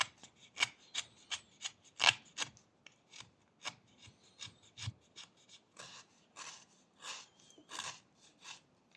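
A knife making a series of short, scraping push cuts into wood while carving a small wooden dolphin, each crisp rasping stroke separated by brief pauses in an irregular rhythm, close and fairly quiet.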